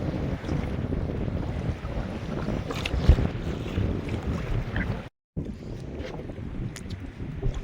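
Strong wind roars across the microphone at the shore during fishing, a steady rough rumble with gusty surges and one brief dropout.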